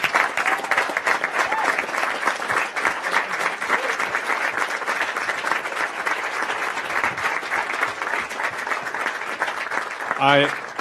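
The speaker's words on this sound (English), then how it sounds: "I want to give them a round of applause" Sustained, dense applause from a conference audience in an event tent, thanking the technical crew; steady and even for about ten seconds, with a brief voice near the end.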